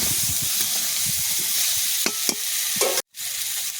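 Bottle gourd and shrimp fry in a pan for a sour Bengali village dish, a loud steady sizzle with a few scraping stirs near the end and a brief break in the sound.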